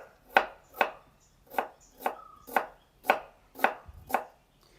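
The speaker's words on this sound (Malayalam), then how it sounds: "അപ്പോൾ ഇതൊന്ന് നുറുക്കിയെടുക്കട്ടെ കേട്ടോ" A knife chops shallots, green chili, garlic and ginger on a board in about eight crisp, evenly spaced strokes, each a sharp close thud, with no talking.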